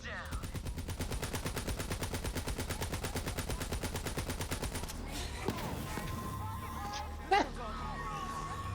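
Rapid automatic gunfire rattles steadily for several seconds during a co-op session of the video game Borderlands 3, then gives way to scattered shots and game effects, with faint voices in the background.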